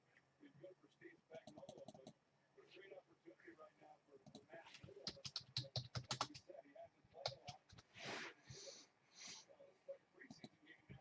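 Typing on a computer keyboard during a live stream produces irregular bursts of quiet, close key clicks and clatter, with soft breathing and low murmured talk mixed in.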